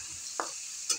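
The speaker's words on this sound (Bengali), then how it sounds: "সয়াবিনটা লাল লাল করে ভেজে নিব।" Soybeans frying in hot oil for a curry give a faint, steady sizzle, and two brief scraping stirs of a spoon against the pan stand out over it.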